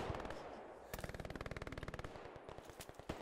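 Automatic gunfire in the Hell Let Loose video game, heard as one rapid burst of evenly spaced shots followed by a few scattered single cracks, moderately distant and fairly quiet, with no talking.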